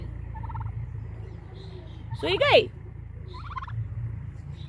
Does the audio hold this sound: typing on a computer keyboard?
no